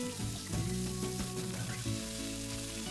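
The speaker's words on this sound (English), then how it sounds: "Fry the potatoes until nice and light brown." Cubed potatoes frying in hot oil in a pan for aloo matar, a steady close sizzle that holds at an even level for the whole stretch, with soft stirring knocks and no voices.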